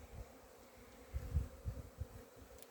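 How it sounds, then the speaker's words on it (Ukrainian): Honeybees on their first cleansing flight of the year at an apiary: a soft, steady buzzing hum with a few louder passes as bees fly close by. "пчолки літають, водичку беруть"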